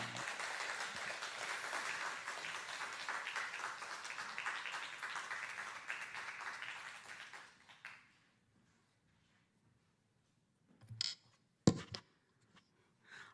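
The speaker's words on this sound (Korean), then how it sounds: "박수까지 쳐주시고 이렇게 환영해 주셔서 너무 감사합니다." A church congregation applauds warmly to welcome a missionary stepping up to preach, broadband clapping filling the first seven seconds before fading into near silence, with a few isolated thumps and knocks near the end.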